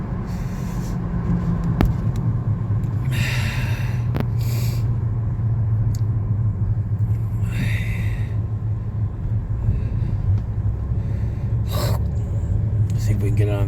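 An orange Lamborghini driving on the road, heard as a steady low rumble of engine and road noise from nearby traffic, continuous throughout with occasional brief transient sounds on top.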